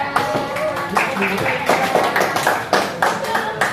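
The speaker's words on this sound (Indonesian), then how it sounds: "tepuk tangan untuk kelompok 3" A high school class claps for a presenting group, a burst of scattered, uneven hand claps from students in a classroom, close and fairly loud, with a few voices mixed in.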